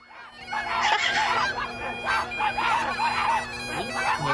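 A flock of turkeys nearby makes a dense, continuous chorus of overlapping gobbling calls that rise and fall in loud bursts throughout.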